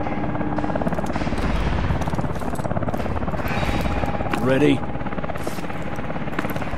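A military helicopter in Call of Duty: Advanced Warfare gives off a loud, constant rotor roar and whine, while voices call out over it and a brief rising effect sounds near the end.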